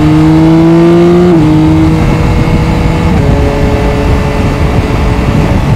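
A Yamaha Tracer 9 GT+ motorcycle engine drones loud and close under steady load, its pitch stepping down and then shifting as gears change.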